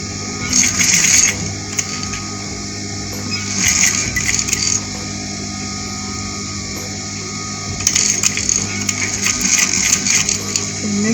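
Sewing machine stitching fabric for boys' African-style men's tops, running in several short bursts of rapid mechanical whirring and clatter with quieter pauses between, close and fairly loud.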